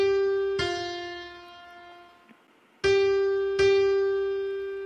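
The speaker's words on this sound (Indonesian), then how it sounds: "Ini adalah suara piano." Piano notes played one at a time as a guessing-game sound for children, with two strong struck notes that ring and slowly decay, a quieter gap, then two more bright attacks, clear and close with no talking.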